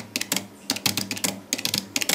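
Fast typing on a PC keyboard during a typing-tutor lesson: close, crisp key clicks in quick bursts separated by short pauses, with no voice.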